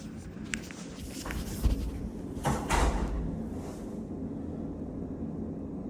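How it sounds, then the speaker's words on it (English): An indoor door swings shut with a couple of muffled thuds and a short rattle in the middle of the clip, heard against a quiet room hum. "Can you close the door?"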